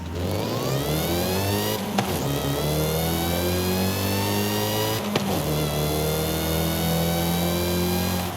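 A supercharged Toyota MR2 engine in the racing game Forza Horizon 5 revs hard and climbs steadily through the gears, with brief drops at each shift, loud and continuous.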